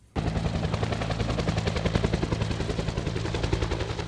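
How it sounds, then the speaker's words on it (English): An Iroquois helicopter in full flight, its rapid rotor thump chopping steadily and loudly throughout, with a deep engine drone underneath. "There's nothing quite like the sound of an Iroquois helicopter in full flight."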